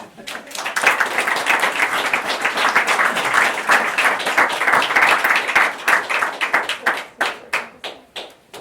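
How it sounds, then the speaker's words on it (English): An audience at an evening talk on social artistry gives sustained applause that swells, holds, then thins into scattered claps, with voices mixed in. "let's give a round of applause."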